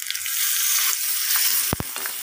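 Onions frying in a pan for an Assamese vendi masala, a steady loud sizzle with a couple of sharp scraping clatters near the end; no one speaks.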